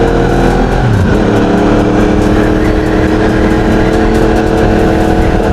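Yamaha MT-07 and MT-09 motorcycles revving hard with throttles opened, a loud continuous engine roar with a pitch that dips and then rises, heard close up.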